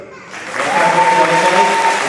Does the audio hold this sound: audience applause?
yes